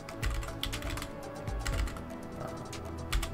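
Python code being typed on a computer keyboard, a steady run of close, light key clicks with a few louder thumps in between.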